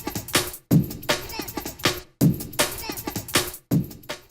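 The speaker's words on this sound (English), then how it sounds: "when you put these breakbeats together at 160" Two breakbeats layered at 160 BPM form a punchy drum loop, kicks and crisp snares repeating in two-bar phrases with brief gaps, loud and up front.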